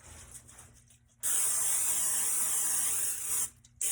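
A single sustained hiss of an aerosol cooking spray, about two seconds long, loud and close, after a quiet moment.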